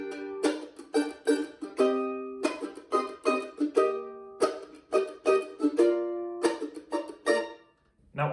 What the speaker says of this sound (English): My part is taking some of the elements of the snare drum and adding it to the mandolin.